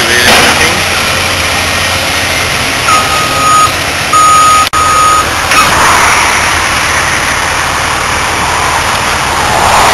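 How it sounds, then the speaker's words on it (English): A Cat 320C excavator cleans ditches beside a highway, its engine rumbling loud and close while a steady series of reversing beeps sounds over it. "A triple B excavator machine."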